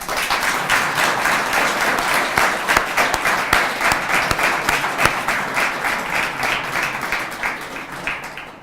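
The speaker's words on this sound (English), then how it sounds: "You can clap." A crowd at the 2017 Mount Vernon, NY State of the City Address applauds in a sustained burst of clapping that stays strong for several seconds before tapering off at the end.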